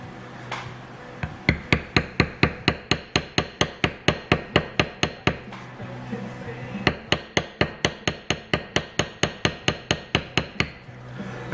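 A Craft Tool Pro B2076 leaf liner is struck with a mallet on tooling leather, giving a long series of sharp, evenly spaced, close taps, first in one run and then in a second after a brief pause.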